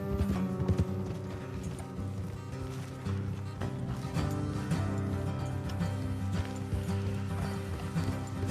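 Horse hooves clip-clop in a steady trotting rhythm in the video game Red Dead Redemption 2, with creaks and faint background sounds, moderately close throughout.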